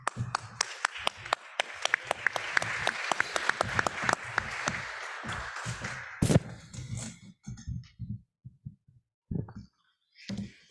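An audience applauds an ambassador at a summit held at the University of Pennsylvania, with dense, steady clapping for about six seconds that thins into a few scattered claps before fading.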